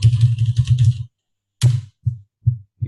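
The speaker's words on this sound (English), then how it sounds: "when you type, it's like God is typing." A computer keyboard is typed on through a new, sensitive microphone, producing a fast clattering burst of keystrokes, then a pause and a few separate, loud, close taps.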